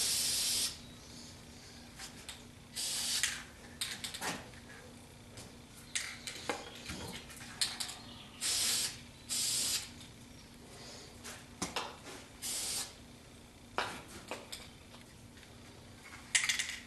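Spray paint bursts onto a rebuilt brake caliper from a 1976 Corvette restomod, a series of short hissing blasts separated by pauses, close and fairly loud with no talking.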